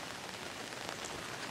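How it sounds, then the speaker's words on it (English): Steady rain patters on a fabric canopy outdoors, a dense continuous hiss of drops that stays loud and even throughout with no voices. "So I'm standing outside in the rain."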